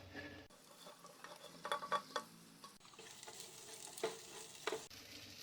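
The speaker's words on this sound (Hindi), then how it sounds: "अब इसमें सब सब्जियां मिक्स करके इन्हें थोड़ा सा स्टर फ्राई कर लेंगे" Beans and peas stir frying in a pan, a faint soft sizzle with scattered stirring scrapes and a few light clinks, close by and without talk.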